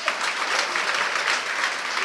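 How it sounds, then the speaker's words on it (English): An audience at a school launch claps steadily, a dense, even wash of applause from many hands with no voices over it. "Let's clap."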